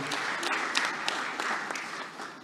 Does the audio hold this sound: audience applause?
yes